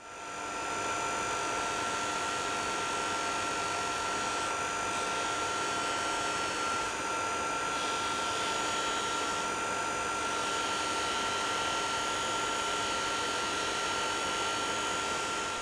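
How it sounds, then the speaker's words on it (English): A bench polisher spins a mop attachment loaded with orange Luxy compound against a saddle ring, giving a steady, loud, broadband whir with a constant high motor whine that runs unbroken the whole time. "And now I will polish it with the bench polisher and mop attachment with some orange Luxy compound for final luster."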